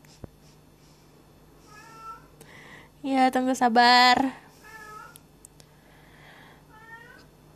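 A cat meows repeatedly indoors, short rising calls spaced through the clip with one louder, drawn-out cry in the middle, over a faint steady hum and a brief spoken phrase.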